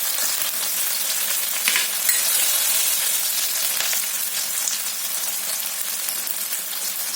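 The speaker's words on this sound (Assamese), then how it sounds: "অকণমান ৰঙা হোৱালৈকে মই এনেকৈ ভাজি থাকিম।" Banana flower frying in a pan until lightly browned, giving a dense, even, close-up sizzle that holds steady throughout with only faint stirring touches and no talk.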